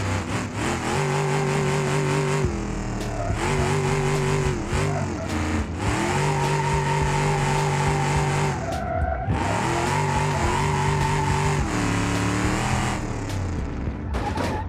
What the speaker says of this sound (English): I'm going to show you what's gonna happen when I'm gonna try and drift this car